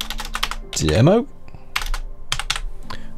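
Fingers type in quick bursts on a computer keyboard, close and crisp, with pauses between runs of keystrokes; a person says a short word partway through.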